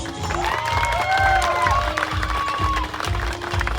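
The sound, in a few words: wedding guests applauding the couple's entrance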